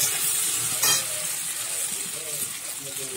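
Ginger garlic paste being stirred and fried in hot oil in a pan for a patol chingri curry, a steady close sizzle with a brief louder scrape of stirring near the start.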